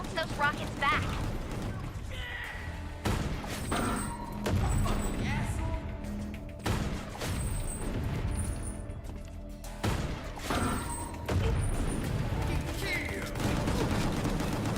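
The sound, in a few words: rockets and gunfire in a video game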